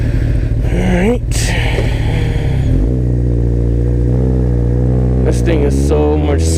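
A motorcycle engine runs steadily while riding on a New York City street, a smooth mid-pitched drone with a couple of rising revs, loud and close throughout.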